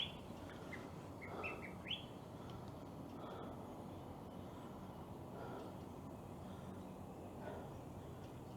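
Several short bird chirps and tweets ring out early on, then sparser calls over a steady low outdoor rumble.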